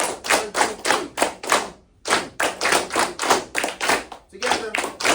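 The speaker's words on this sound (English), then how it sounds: "Clap, clap, clap, clap." A group of students claps hands together in a steady rhythm, sharp repeated claps in quick succession with a brief pause midway, loud and close in a school setting.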